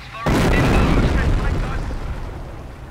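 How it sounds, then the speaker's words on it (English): Heavy artillery barrage with incendiary rounds in Company of Heroes, one loud close blast hitting suddenly and rolling into a long, broad rumbling decay. "Continue to barrage the enemy squad until they are defeated"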